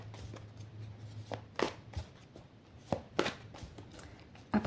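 Oracle cards are shuffled by hand in a few separate, sharp riffling bursts spaced over several seconds, close and fairly quiet, against a low electrical hum in a calm room.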